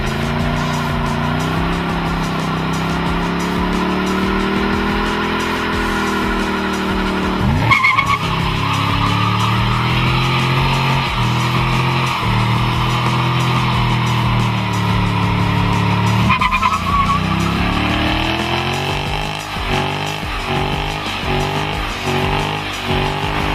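A 2011 Ford Mustang GT, Chevrolet Camaro SS and Dodge Challenger SRT8 sliding with loud, sustained tire squeals over roaring, revving V8 engines, with sharp gear changes and pulsing wheelspin toward the end.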